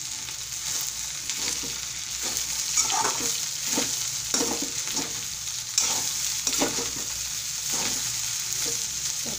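Sabudana khichdi with coriander leaves being stirred in a pan, off the heat: a steady soft sizzle underneath, with repeated scraping strokes of the spoon at an unhurried, fairly regular pace, close up and without any voices.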